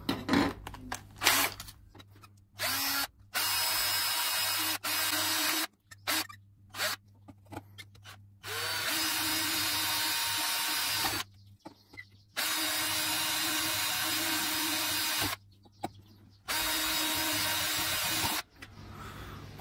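A small electric drill bores a fine screw hole in the plastic housing of an LED lamp during a home repair, with repeated whirring bursts separated by short pauses.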